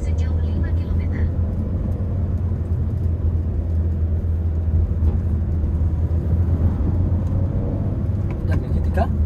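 A Honda Brio car drives along a road with a steady low engine rumble and road noise that holds constant from start to finish, loud and close as if heard from inside the cabin.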